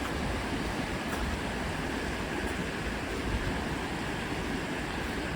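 The River Dane flowing on a countryside walk from Wincle to the Dane Feeder, a steady broadband rush of moving water that stays even and continuous throughout, with no voices.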